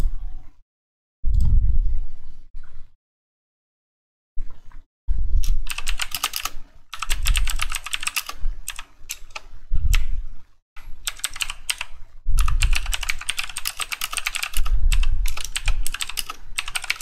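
Bursts of rapid clattering keystrokes on a sticky computer keyboard in the RequiemUO game, loud and close, broken by short silent pauses between typing runs.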